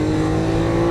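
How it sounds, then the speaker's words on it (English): A Lamborghini Aventador engine drones close and loud under steady throttle on a racing track, a continuous harmonic growl over the short span with no pauses. "Squeeze down the throttle."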